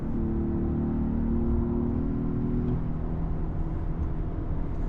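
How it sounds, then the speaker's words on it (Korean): A Hyundai Grandeur with a 3.5-litre gasoline V6 accelerates in sport mode, heard from inside the cabin as a steady, loud, low engine rumble that holds throughout. A rising tonal drone gradually shifts as speed builds. "주행 모드를 스포츠로 바꾸고 한번 가속을 해보겠습니다."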